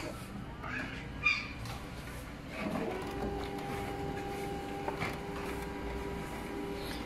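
A printer feeds and prints on Forever dark no-cut laser transfer paper, starting with faint handling noises, then a steady mechanical whir with tonal motor hum running close by to the end.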